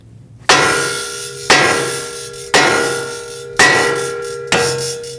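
Five sharp metallic hammer strikes on the steering knuckle of a 2020s Toyota Corolla to free the tie rod stud, evenly spaced about a second apart, each ringing out and decaying before the next, loud and close.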